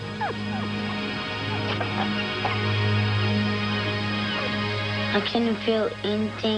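A small puppy, a pug, trapped down a sewer pipe whimpers and yips, its cries echoing faintly beneath a steady low drone while a person talks over it.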